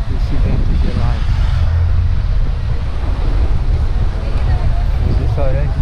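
Cold wind blows hard across the Lagoa da Conceição lagoon, a loud, constant buffeting roar against the microphone, with a voice faintly audible beneath it.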